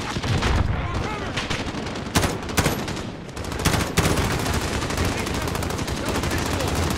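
Dense, loud gunfire from automatic weapons and explosions in the Call of Duty Modern Warfare campaign, a continuous barrage with sharp individual shots and heavy booms, with shouted voices mixed in.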